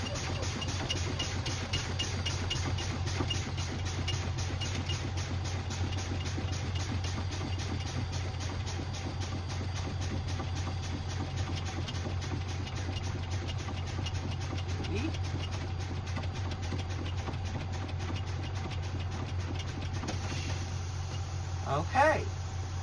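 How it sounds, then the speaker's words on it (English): A truck idles steadily while its air brakes are fanned down, with repeated air releases under the engine drone and a brief sharp pop near the end as the spring brakes set. "I'm going to continue fanning down the brakes till my emergency spring brake pops out, followed by my parking spring brake"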